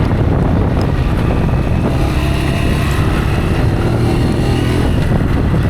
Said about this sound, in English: Hear a bit of knocking.